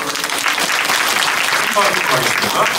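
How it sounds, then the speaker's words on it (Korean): A church congregation applauds during a Korean worship service, a dense, continuous wash of clapping with some voices mixed in. "우리 하나님께 박수 영광 드립니다"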